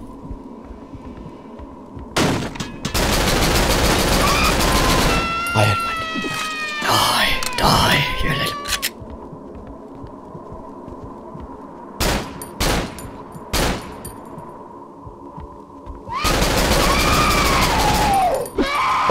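Bursts of gunfire in the horror game Cry of Fear, several loud rapid volleys separated by quiet stretches with a low hum, and a voice speaking between the shots.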